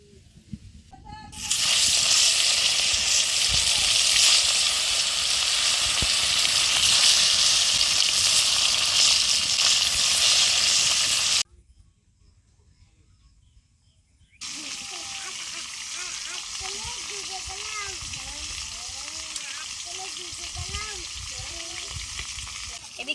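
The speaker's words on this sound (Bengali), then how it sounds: "মাছ ভাজা হচ্ছে" Loud, steady sizzling of fish frying in hot oil in a wok on an earthen stove, breaking off into near silence, then resuming at a lower level with voices talking over it.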